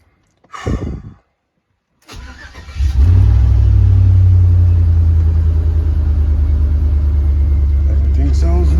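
A car with a rebuilt 4L60E transmission: a brief sigh, a cranking starter, then the engine catches and revs up to a loud, steady, close rumbling idle that runs on to the end.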